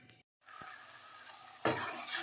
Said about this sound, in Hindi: तो जी मसाला अच्छे से भून चुका है